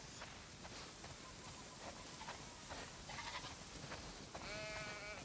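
Sheep bleat in a barnyard scene from the video game The Last of Us Part II, several calls from a flock scattered over soft background noise, with a clearer, nearer bleat toward the end.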